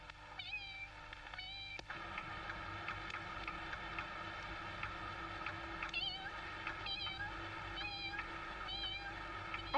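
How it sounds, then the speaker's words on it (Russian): A cat meows several times, faint and somewhat distant, the short calls spaced irregularly over a quiet indoor background. "Опять кошка паршивка"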